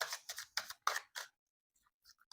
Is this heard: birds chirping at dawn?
no